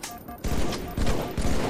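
Assault rifle fire in the Halo 3 video game comes in three loud, rapid bursts in close succession. Each burst is a dense rattle of shots.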